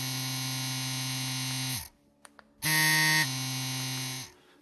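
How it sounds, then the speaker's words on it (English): EZ P3 Pro tattoo pen machine with a T-Tex cartridge on a 4.2 stroke at about 10 volts, a loud steady electric buzz that runs, stops briefly with a couple of clicks, then starts again and winds down. "it's really quiet and really low vibration tattoo machine"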